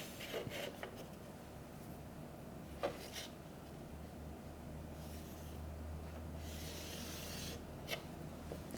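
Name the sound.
pen drawing lines of a geometry angle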